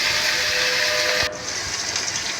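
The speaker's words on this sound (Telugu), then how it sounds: "తాలింపు వేగింది వంకాయ ముక్కల్ని కడిగి వేసుకుంటున్నాను" Washed brinjal pieces hit hot tempering oil, giving a loud, dense sizzling hiss that drops abruptly after about a second, then settles into a softer steady sizzle.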